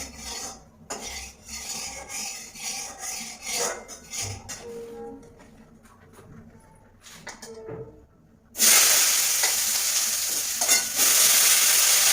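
Mixed vegetables are cooked in oil in a kadai, with scattered clinks and scrapes of a utensil at first, then a sudden loud, steady sizzle that takes over near the end as they hit the hot oil.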